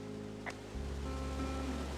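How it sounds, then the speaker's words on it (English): Waterfall in the video game Firewatch, a steady rushing water wash, moderately loud and continuous, with no voices. "It's a really nice waterfall down here."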